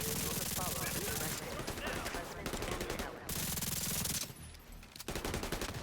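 Light machine gun in a console shooter game firing long rapid automatic bursts, loud and close, with short pauses between strings of shots and a voice speaking briefly amid the gunfire.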